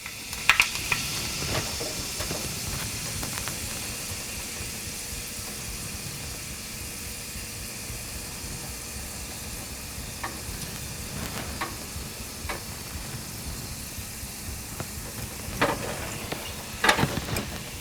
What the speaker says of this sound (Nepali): तेल रेडी भयो, तातिसकेको छ। अब म हाल्दै छु मेथी। यसलाई चाहिँ अलिकति डढाउनु पर्छ